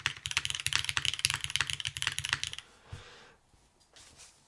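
Fast typing on a Keycult No. 2 TKL mechanical keyboard with copper parts, a close run of crisp, clacky keystrokes in quick rhythm that stops after a couple of seconds, followed by a few faint stray clicks.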